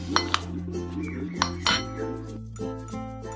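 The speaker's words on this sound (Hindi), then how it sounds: "हमारी सारे फ्रूट हमने हमारी चाट में अच्छे से मिक्स करके अब ले लेना है" Cut fruit chaat tossed in a bowl with a utensil, giving a string of light clinks and scrapes of metal against the bowl at irregular intervals, close and fairly quiet, with no talking.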